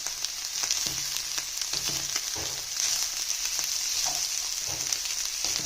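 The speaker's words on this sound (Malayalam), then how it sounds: "ഇനി ഒന്ന് ഇളക്കി കൊടുക്കാം." Vegetable rice for diabetics sizzles steadily in a pan while a spoon stirs it in soft scraping strokes, with no talking.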